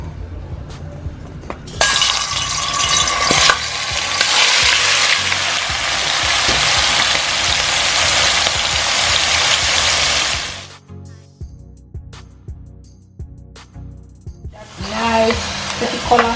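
Beef being stirred into hot oil in a pot for Jamaican stewed beef gives a loud, dense sizzle that bursts in and roars steadily for several seconds, then drops to faint clinks before a second, shorter surge of sizzling.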